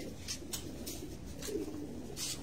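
Old golden pigeons cooing, low soft repeated coos in a gentle rhythm, fairly close and quiet, with a few faint higher chirps and no talk.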